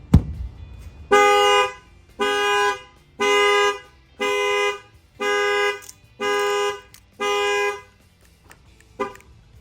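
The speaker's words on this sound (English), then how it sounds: "You're going to see that the alarm's going to fire off." A C7 Corvette's factory alarm with an upgraded shock sensor blares in seven loud, evenly spaced horn blasts, each about half a second long, starting after a brief thud, with a faint final chirp.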